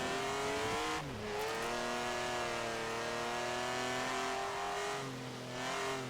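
A Forza Horizon 5 drift build's engine revs, a raspy tone like an E46 M3, holding steady harmonic drones with a brief drop and climb near the start and again near the end, loud and close.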